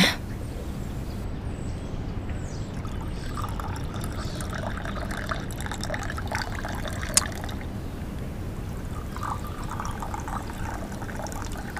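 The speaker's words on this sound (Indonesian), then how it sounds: "Menuang air harus stabil." Water poured steadily from a pot while serving tea, a soft continuous trickle and splash lasting throughout, fairly close and without talk.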